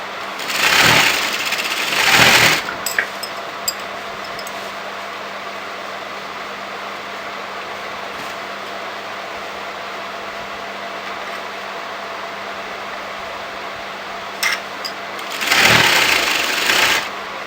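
A sewing machine stitching a shawl collar on a kurti runs in two short whirring bursts at the start and one near the end, close and fairly loud, with a steady low hum between.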